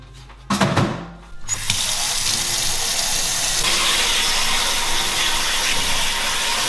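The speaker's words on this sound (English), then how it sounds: "I'm putting it in the sink." Water runs hard from a tap into a sink as a grimy keyboard is washed beneath it, beginning with a few clunks and splashes before a steady, loud gushing stream.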